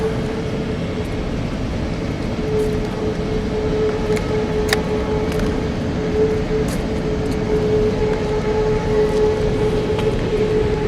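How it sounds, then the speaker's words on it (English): A train rumbles steadily across a bridge nearby, a continuous broad roar with a sustained tonal whine and occasional sharp metallic clicks layered over it. "Got a train going over that bridge right there."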